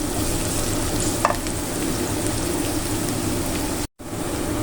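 Onions sautéing in a pan as the first step of a stir-fried bitter melon dish, a steady close sizzle under intermittent scraping stirs, with one brief sharp clink and a momentary dropout near the end.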